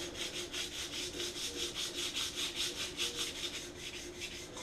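An axe edge is sharpened with 180 grit abrasive, rubbed lengthwise in quick regular strokes, a close, soft, even scraping rhythm of about fifteen passes with no voices.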